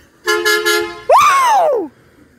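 A garbage truck's horn sounds twice up close: first a steady, slightly stuttering harmonic blast, then a louder second honk that rises and slowly falls in pitch before cutting off, with nothing else heard.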